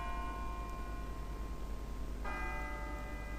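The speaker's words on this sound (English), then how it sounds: "It sounds like a bell, but where's it coming from?" A church-like bell rings with a sustained, steady tone, then a second strike at about two-thirds through renews the ringing, heard alone over a faint steady background in the Persona 3 video game.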